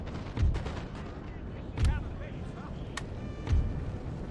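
Cannons firing canister shot in the Napoleon: Total War video game, three deep booming blasts spaced about 1.5 seconds apart over a continuous battlefield din.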